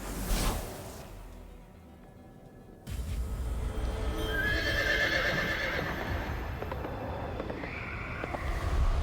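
Horse of the White Rider in the video game Shin Megami Tensei V whinnies and neighs with clopping hooves, a near, loud burst at the start, then a brief lull before dense swooshing game effects continue.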